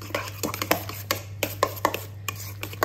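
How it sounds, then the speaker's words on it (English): A spoon stirs avocado and pine nut pesto in a bowl, giving a string of soft, uneven scrapes and taps against a steady low hum. "Give that another good stir around"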